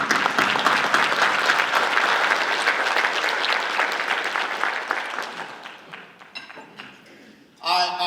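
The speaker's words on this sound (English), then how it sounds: "let's just celebrate, DJ and Dale and what they're doing in the Columbus community by giving them a round of applause" An audience at a high school female athletes of the year awards ceremony gives a loud round of applause that gradually thins and fades, ending with a brief burst of another sound at the end.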